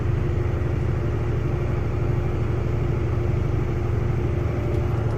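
A tall farm tractor runs at a steady, loud, throbbing idle-like rumble while corrugating a cover crop, the pulsing engine note unchanging throughout.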